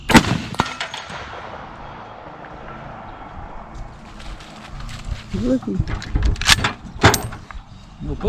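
Rifle shots outdoors while sighting in a rifle: a few sharp, loud cracks spread across the stretch, with people talking and some clattering between them.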